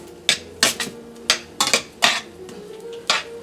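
Linguine pasta being mixed in a metal pan at home, with loud, irregular clanks and scrapes of a utensil against the pan, about eight sharp knocks in quick succession, close up and with no talking.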